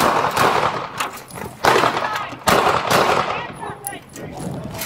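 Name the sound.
gunfire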